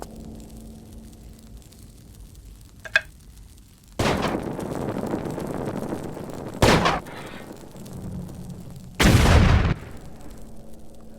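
Explosions set off in a Tomb Raider level editor game to flood the aqueducts: a sharp crack, then a big booming blast with a rumbling tail, another hit, and a final loud burst, all without talk.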